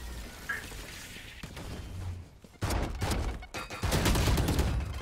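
Rapid gunfire bursts from a video game, with a quieter opening stretch and then dense, loud volleys of shots in the second half, with no talk over them.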